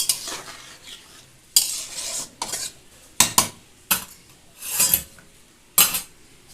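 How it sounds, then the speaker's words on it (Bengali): Stirring raw green mango chutney ingredients in a pan, with irregular scraping strokes and metallic clinks of a spoon against the pan, loud and close with short gaps between bursts, no talk. "সব কিছু দেওয়ার পর ভালোভাবে একবার মিশিয়ে নেড়ে নেব"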